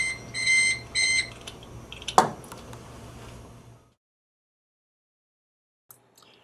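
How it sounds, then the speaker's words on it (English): ESD body voltage monitor sounding its alarm after the mat ground cord is unsnapped: two bursts of rapid electronic beeping, a sharp snap-like click, then a fading hum before silence and a faint tick at the end. "The alarm will go off."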